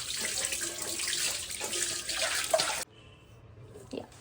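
Tap water pours steadily into a sink while lentils are rinsed for homemade junnu, a broad close hiss that stops abruptly near the end, leaving a quiet room with faint clinks.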